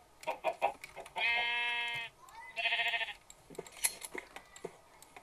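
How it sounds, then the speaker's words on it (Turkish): Sheep in the video game Minecraft give two drawn-out, wavering bleats in the middle, framed by clicks and short scattered sounds before and after. "Gördüğünüz gibi koyun."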